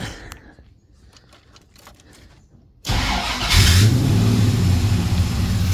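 After a few quiet seconds of faint clicking, a Toyota Lexcen's engine suddenly starts and roars, then revs loudly and holds a steady, rumbling idle up close.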